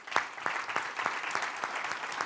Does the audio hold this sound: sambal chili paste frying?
no